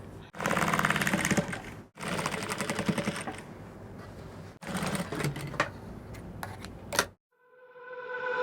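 A sewing machine sews a side seam on a puff-sleeve garment, whirring loudly up close in three long runs separated by brief stops, then falls quiet.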